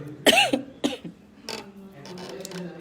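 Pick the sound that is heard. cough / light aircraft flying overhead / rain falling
cough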